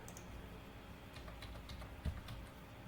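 Faint, soft clicks of typing on a computer keyboard while entering a command in AutoCAD drawing software, scattered quietly over a steady low background hum.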